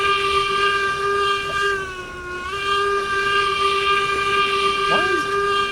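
A steam locomotive in Railroads Online runs, its sustained whistle sounding a loud, steady multi-tone blast that dips briefly in pitch midway, with rumbling rail noise underneath and a brief voice near the end.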